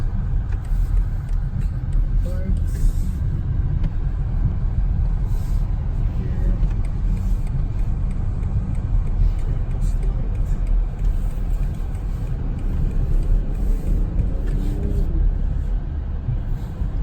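A 2019 BMW X7 40i heard from inside while driving: a continuous low road rumble and tire noise fills the cabin steadily throughout, with faint voice traces mixed underneath.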